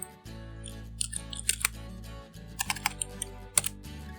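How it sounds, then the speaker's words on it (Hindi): Computer mouse clicks and keyboard taps during work in Nuke Studio, close and sharp, arriving in small irregular clusters over a low steady hum, with no voices. "यहाँ पे क्लिक करता हूँ"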